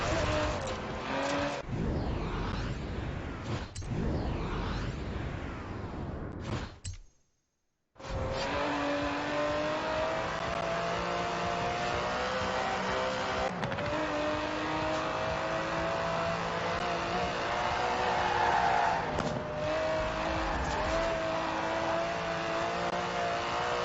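Aston Martin DB11 with its 5.2-litre twin-turbo V12, driven in Forza Horizon 4, gives a steady, loud engine drone that cuts out briefly partway through and then resumes at full strength, with no talking.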